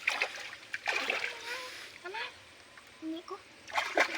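Water splashes and sloshes at a natural spring in short bursts, with someone talking over much of it.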